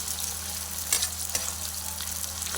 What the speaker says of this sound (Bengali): এই দেখো বেরেস্তার জন্য পেঁয়াজ দিয়ে দিয়েছি তেলে